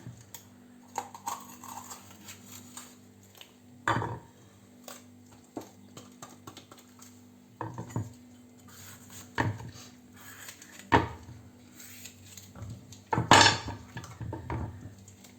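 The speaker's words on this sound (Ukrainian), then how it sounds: "Ось так ми нарізаємо такими листочками." A knife slicing bell peppers into strips on a board, with irregular crisp cuts and knocks spaced a second or two apart, close and clear, and a quick cluster of sharper chops near the end; no talking.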